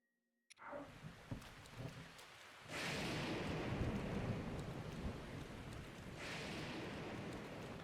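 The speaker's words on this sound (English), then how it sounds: "You can make the thunder go away?" Thunder and heavy rain in the video game Zelda: Tears of the Kingdom: a steady roar of downpour swells in around a few seconds in and holds loud, with low rumbles beneath and no talk.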